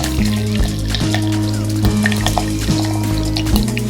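Asafoetida and curry leaves fry in hot oil for a Tamil tamarind pongal, giving a steady close sizzle with bright crackles and pops, under a repeating low hum from the stove or a nearby appliance.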